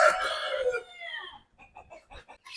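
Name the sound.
rooster crowing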